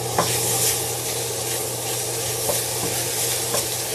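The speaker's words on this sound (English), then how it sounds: "Making sure the bacon's not burning, making sure the vegetables aren't burning" Bacon and vegetables frying in a pan give off a constant close sizzle, broken by scraping stir strokes and a few light knocks of the utensil, with no voices.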